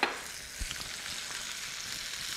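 Sage, rosemary, thyme and garlic cloves sizzle in melted butter in a pan, a steady close crackling fry with small pops and no talking.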